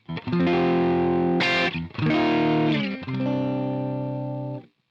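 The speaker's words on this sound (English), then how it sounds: "I've got the guitar plugged into my Axe effects and all the effects are off" An electric guitar played clean through an Axe-Fx with all effects off: three sustained strummed chords, each ringing clearly with short gaps between, the last fading out.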